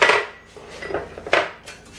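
Eggs and sugar are mixed in a dish, giving a few scraping, clinking strokes of a utensil against the dish, close and moderately loud, in an uneven rhythm of bursts.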